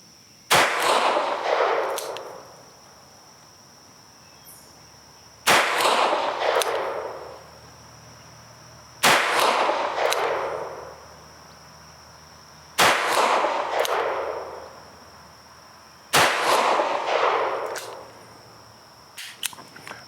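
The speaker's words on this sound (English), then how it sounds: "take 5 shots at the center target up there and see how it does" Five single-action shots from a Taurus 605 revolver fired at a target, each a sharp loud report with a ringing decay, spaced about four seconds apart with quiet between.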